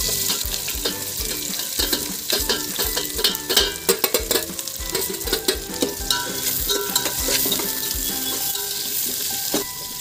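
Sliced onion fries in hot oil with cardamom for chicken biryani, a bright continuous sizzle broken by frequent clattering stirring strokes of a spoon against the pan, close and fairly loud, with no talking.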